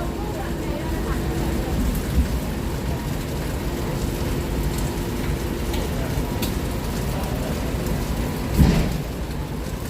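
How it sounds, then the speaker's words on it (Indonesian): Steady rain pours down outdoors while people wait for a taxi near a busy blood-test site, a dense continuous hiss with a brief louder splash near the end. "Terus hujan belum reda"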